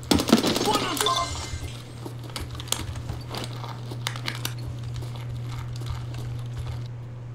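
A glass door shattering in Escape from Tarkov, a loud crash of breaking glass at the start followed by scattered tinkling fragments and crunching over a steady low hum.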